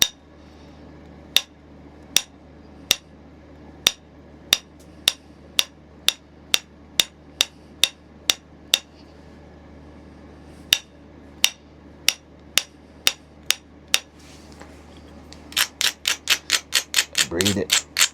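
A rod strikes Knife River flint in indirect-percussion knapping, producing sharp, isolated clicks at a steady, unhurried pace, then a quick flurry of rapid taps near the end over low background hum.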